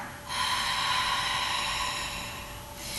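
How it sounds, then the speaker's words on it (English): Ujjayi breathing drawn through the back of the throat with the mouth open: one long, steady, breathy hiss close to the mic, heard alone. "So it's like taking the breath straight back to the back of your throat to fog that mirror."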